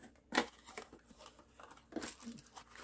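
Close crinkling, tearing and snipping sounds of a package holding a small new ball-float valve being opened, in short irregular bursts with a quiet voice now and then.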